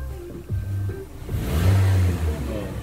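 A Suzuki Ertiga engine fitted with an iForce throttle controller revs up, a close, loud mid-pitched roar that swells twice, the second rise longer and stronger, with no talk over it.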